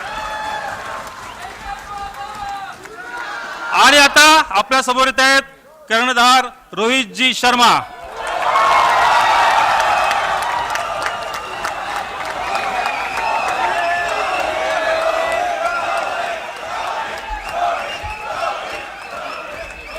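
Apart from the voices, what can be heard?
audience applause for Team India at Vidhan Bhavan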